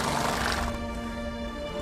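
Roach, a horse in the video game The Witcher 3, gives a short neigh that fades into a lower, steady game background.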